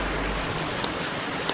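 A mountain brook running down from high on a hillside in the Harz forest, a close, steady rushing wash of water with a couple of faint clicks, no voices.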